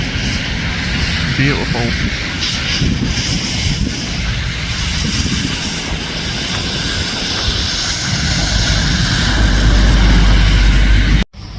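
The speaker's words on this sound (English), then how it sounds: "EasyJet on the other takeoff runway, there you go. Wheels are up already." An EasyJet airliner takes off from a runway at Schiphol Airport, a loud sustained roar of jet engines rising toward the end, with someone talking briefly over it.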